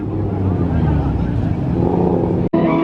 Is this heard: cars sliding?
yes